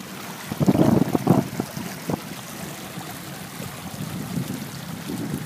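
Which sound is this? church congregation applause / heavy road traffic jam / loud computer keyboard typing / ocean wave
ocean wave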